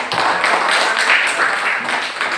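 Classroom applause from students, a continuous burst of hand clapping, fairly loud and close, lasting a couple of seconds.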